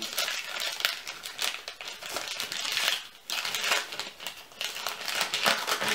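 A package being unwrapped and opened, close crinkling and crumpling of wrapping with rustling and tearing bursts throughout.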